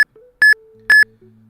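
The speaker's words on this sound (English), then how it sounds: "Stacks, we've located your beeps." Sharp electronic beeps in a Pokémon FireRed/LeafGreen game, two short loud tones in quick succession with a faint low hum between them.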